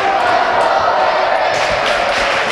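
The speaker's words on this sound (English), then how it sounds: "The crowd has started a Let's Go Lamphere chant here in the gymnasium" A crowd in a school gymnasium at a high school basketball game chants in a loud, echoing roar that swells and keeps going, filling the room.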